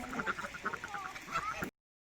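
Ducks in a park give a run of soft, fairly distant quacks in quick bursts, with faint voices in the background.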